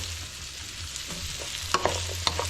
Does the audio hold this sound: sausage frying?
yes